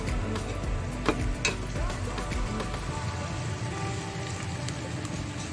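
Garlic paste and onion frying in a pan for a zucchini and potato sabzi, with a steady soft sizzle and crackle and a few sharper pops, under quiet background noise.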